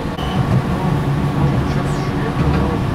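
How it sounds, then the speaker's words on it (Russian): Steady low rumble and rattle from the inside of a moving rail vehicle running on tracks, continuous and fairly loud, with faint voices underneath. "Мы же едем по рельсам"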